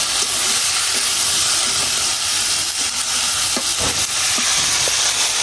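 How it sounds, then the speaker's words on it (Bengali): Onion, chilli and vegetable bhaji frying in hot oil give off a steady, loud hiss and sizzle that keeps going the whole way, with a few soft stirring clicks underneath. "তেলের পরে পেঁয়াজ মরিচ দিচ্ছি"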